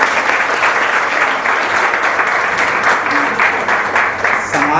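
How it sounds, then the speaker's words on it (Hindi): Loud, dense applause from a lecture audience for a professor, continuous clapping filling the whole stretch with no speech over it. "हम सब फिर से इनके लिए ताली बजाना चाहते हैं"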